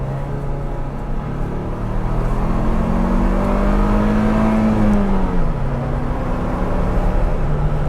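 A 2021 Ford Bronco with the 2.3 engine and manual gearbox accelerates, heard as a steady engine drone from inside whose pitch rises, then dips as it shifts, under road noise.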